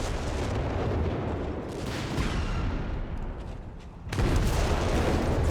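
Howitzer artillery fires in the video game Company of Heroes 3, heavy booming blasts layered over a dense rumbling battle din, with a sharp, loud burst near the end.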